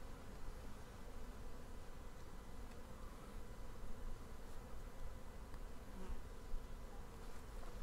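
A dense swarm of honeybees buzzes around an open hive frame holding pollen and brood comb, a steady close drone with no pauses and no voices.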